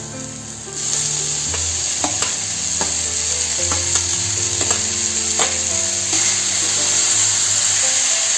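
Tomatoes fry with ginger garlic paste in a pan for mutton keema, a loud steady sizzle beginning after a moment, with scattered clinks of a spoon stirring throughout.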